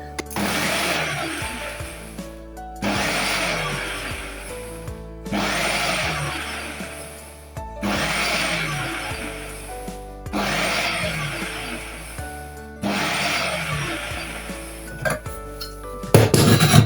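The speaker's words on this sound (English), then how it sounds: "So I want to chop this and go straight to" A Ninja 3-in-1 food processor chopping onion in repeated pulses, about six loud whirring bursts of roughly two seconds each with short gaps between, close up and without talk.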